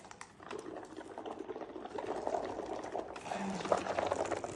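Bubbles are made in water for a children's game, a soft continuous bubbling and gurgling that is faint and close, going on throughout with no voice over it.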